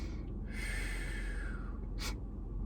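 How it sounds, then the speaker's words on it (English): A slow, steady inhale taken during a guided breathing exercise, a soft airy rush lasting around a second and a half over a low background hum, then a short sharper breath sound near the end. "Inhale."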